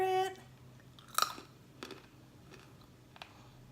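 Close, quiet crunching of someone chewing rosemary maple roasted almonds, a few sharp bites followed by softer irregular chewing with no talking.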